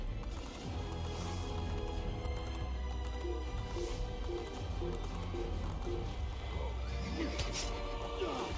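A horse in the Assassin's Creed video game neighs and whinnies loudly over steady game ambience and music, with a few clopping hoof steps mixed in and no talk.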